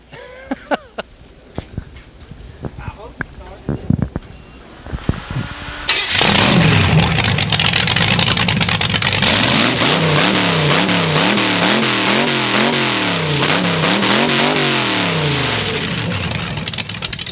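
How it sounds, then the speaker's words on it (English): A few clicks and clatters, then a big hot rod engine fires up loudly and revs repeatedly, rising and falling in pitch with a rough, throaty rumble up close to the exhaust pipes. "We want to hear this thing run, I bet it's loud, ain't it?"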